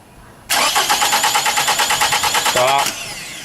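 A car's starter cranks the engine for about two and a half seconds in a fast, even chugging rhythm, loud and close, while a security-key fault keeps it from starting; the cranking then cuts off abruptly.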